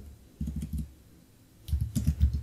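Code typed on a computer keyboard, two quick bursts of soft, close key clicks separated by a brief pause.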